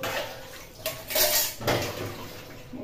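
Cooking pots taken from a fridge clatter and clank in a home kitchen, several close metallic knocks and scrapes in short bursts over a quiet background.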